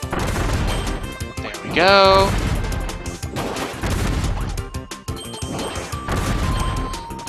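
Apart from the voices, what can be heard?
bombs exploding in video game Return To Dreamland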